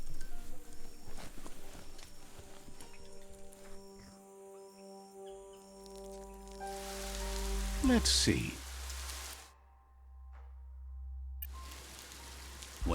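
Rain falls in the Biomutant video game as a steady patter and hiss over a sustained musical tone, swelling in bursts toward the end, with a brief spoken voice.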